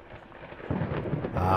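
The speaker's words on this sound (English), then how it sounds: "Ah, the thunderstorm. The ambiance is delicious." Thunderstorm ambience in the horror game Layers of Fear: a low rumble of thunder builds and swells mid-way, with steady rain hiss underneath, moderately loud and with no talk.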